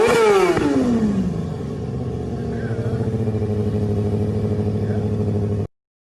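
A motorcycle's throttle is twisted by a little girl, the engine revving up sharply then settling back to a steady, loud idle with harmonic engine drone, close by and without talk.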